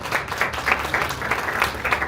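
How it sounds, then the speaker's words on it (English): Steady applause from a crowd, a continuous wash of many hands clapping at moderate volume with no voices over it. "Let's give them a round of applause."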